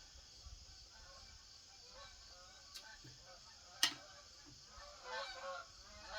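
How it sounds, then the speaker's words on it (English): Geese honk faintly in the distance outdoors, a few soft scattered calls over quiet background noise. "It's geese, honey. It's geese."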